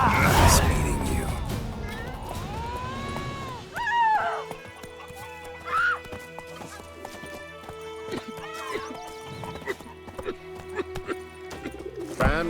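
Horse hooves clip-clop and a horse neighs in The Witcher 3, with bird coos and game music around them, the whinny loud near the start and the hoofbeats running steadily through the rest.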